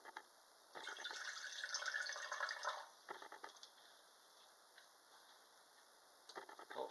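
Water splashes from a tap or bottle into a strontium nitrate solution in a lab setting, a short gushing pour followed by faint drips and trickles in a quiet room.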